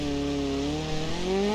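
A car engine in BeamNG.Drive bogs down and loses power on a dirt track, giving a loud, continuous strained drone whose pitch slowly slides upward.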